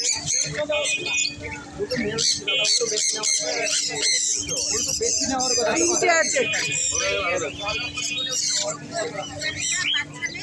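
Caged birds at the Srirampur animal and bird market squawk and chirp in a busy, overlapping chorus, with steady conversation and vendor chatter running underneath throughout.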